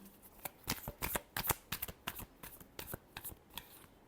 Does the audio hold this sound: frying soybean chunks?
no